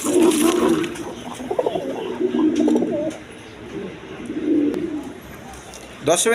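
A pair of red Gorra satin pigeons coos in low, rolling bursts, the calls repeating close by with brief pauses between them, and a person's voice is heard speaking over the birds at times.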